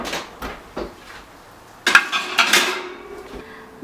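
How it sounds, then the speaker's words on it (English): A metal baking tray holding kebab is slid into an oven: a few light knocks, then a louder metallic clank and a scraping slide, close and clear, with no voices. "Now I'm going to put the kebab in the oven for 15 minutes at 350 degrees."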